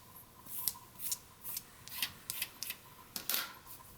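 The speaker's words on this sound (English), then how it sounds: "I've got just a little bit more I want to trim off here" Scissors snip macramé cord while trimming a macramé leaf, a quiet, close series of about a dozen sharp, irregular cuts with short pauses between them.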